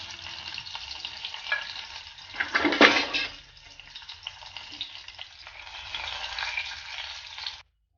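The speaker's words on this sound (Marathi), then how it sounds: "आता या तेलावरती मोहरी घालूया आणि कढीपत्त्याची पानं" Mustard seeds and curry leaves dropped into a little hot oil for a Malvani tomato saar tempering give a steady crackling sizzle, swelling into a louder hiss and spatter midway before settling back to an even fry.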